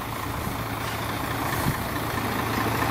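A Mercedes Citaro G articulated bus engine rumbles steadily at idle, a low continuous drone heard from inside the vehicle.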